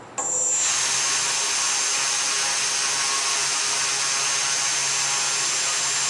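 A quadcopter motor in an initial test build spins up from a brief start into a steady, loud high-pitched whine that holds evenly for several seconds, close by with no talk.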